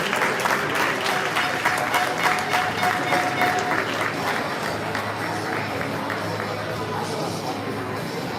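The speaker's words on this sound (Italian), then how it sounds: "Un applauso ai pugili." A crowd at an Olympic boxing event in Sarcedo applauds the boxers steadily, with dense clapping filling the space and slowly thinning out, along with a few voices in the background.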